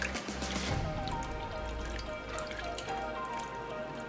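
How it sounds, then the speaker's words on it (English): Teriyaki marinade poured into a pan of cooking chicken, a brief liquid splash at the start followed by steady sizzling and bubbling that continues close and fairly loud, with no voices. "take the remainder of this marinade and pour it in the pan with the chicken as well"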